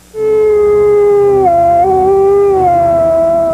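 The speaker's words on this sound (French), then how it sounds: "Les hurlements des loups solitaires ont longtemps glacé d'effroi les voyageurs de la nuit" Wolves howl in long, loud, sustained tones that slide down in pitch, with a second voice joining partway through and no speech over them.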